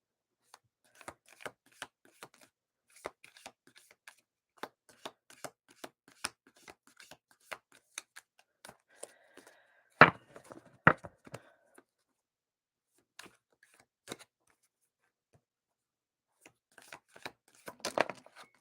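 Tarot or oracle cards shuffled and drawn during a live reading, a quiet series of soft riffling flicks and slaps at close range, with a couple of sharper snaps and long pauses between bursts.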